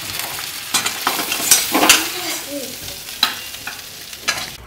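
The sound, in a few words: hilsa fish frying in oil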